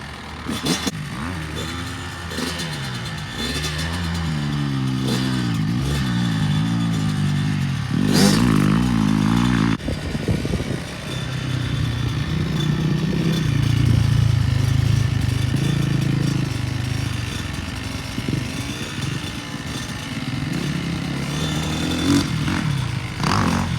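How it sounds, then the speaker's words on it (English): A motocross dirt bike engine runs close by during a one-on-one riding lesson, revving up and dropping back unevenly as the clutch is worked, with a continuous rough drone and some clattering. "get used to what the bike wants as far as RPM and clutch control"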